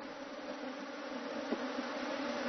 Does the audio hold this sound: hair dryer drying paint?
no